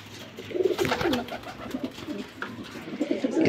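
A flock of about eighteen flying pigeons in a loft in Lahore coos in repeated throaty bursts, some closer and louder, others softer in the background, with no voices.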